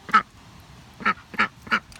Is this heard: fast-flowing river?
no